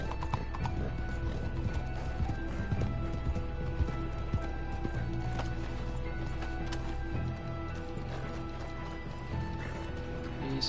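Rhythmic clip-clop of galloping hooves in Red Dead Redemption 2, loud and continuous, mixed with game music and occasional whinnies.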